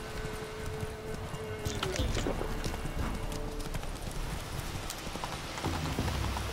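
Roach, a horse in The Witcher 3, clip-clops along at a steady gait with hoof falls continuing throughout, set against a busy background of ambient game sound.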